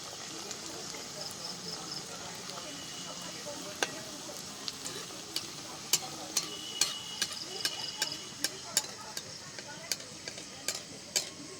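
Breakfast snacks frying in a pan: a soft, continuous sizzle with a run of sharp clicks and taps from a utensil that grows more frequent toward the end, heard close but quietly.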